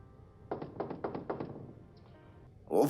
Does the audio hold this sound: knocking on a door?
yes